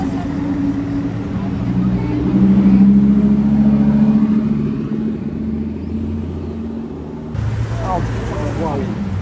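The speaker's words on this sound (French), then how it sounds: "Le son de la F12." Ferrari F12 V12 engine idling and revving at Top Marques Monaco, a deep steady rumble with a swell in the middle, heard close amid background crowd chatter.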